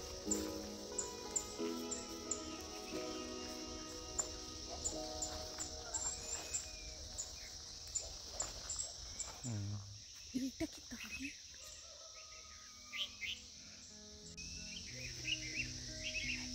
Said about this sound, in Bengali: কিচিরমিচির পাখির ডাক।